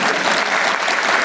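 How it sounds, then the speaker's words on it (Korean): A short burst of audience applause at a public policy talk, dense, close and steady clapping from a crowd with no voices. "박수 쳐주려고 그러는 거예요?"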